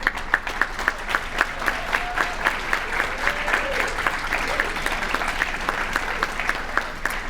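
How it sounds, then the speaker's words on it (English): An audience at a pinning ceremony applauds with steady, sustained clapping from a large crowd in a hall, loud and even throughout. "thank your family, friends, and all are here with a hearty applause"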